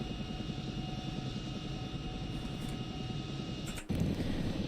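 A Chinook helicopter in a flight video game gives off a continuous rotor and engine drone at a steady, moderate level, with a brief dip and shift near the end.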